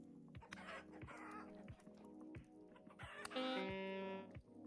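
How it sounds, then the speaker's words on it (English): Chickens clucking and crowing in the survival video game Vintage Story, a busy flock with repeated clucks and a drawn-out crow near the end, with sharp intermittent game clicks and thumps. "Get, bruh, these chickens. Get out of here."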